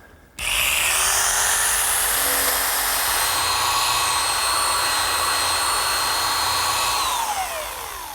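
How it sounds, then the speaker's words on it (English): A jigsaw cuts through the side panel of a wooden outdoor bench, starting abruptly and holding a loud, steady high-pitched buzzing whine for several seconds before easing off at the end. "The jigsaw will do just as good a job."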